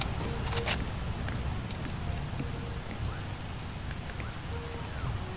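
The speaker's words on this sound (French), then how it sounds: "Oh, la pluie arrive." Steady rain in the video game Far Cry 2 pattering on surfaces, a constant even wash of drops with faint distant rumbles beneath, no voices.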